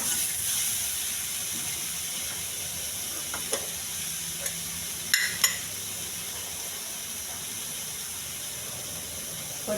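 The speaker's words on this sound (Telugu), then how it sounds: "మంటకు సిమ్లో పెట్టుకొని బాగా కలుపుతూ ఉండాలి" Bitter gourd fry sizzles steadily in a pan over a low flame, a soft continuous hiss broken by a few light scrapes and clinks as it is stirred, with no talk.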